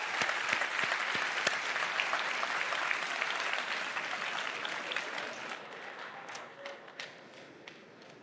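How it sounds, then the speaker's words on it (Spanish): A church congregation applauds during a sermon, dense clapping that is full at first and gradually thins and fades out toward the end. "Aplaudan a la iglesia y digan, fuera."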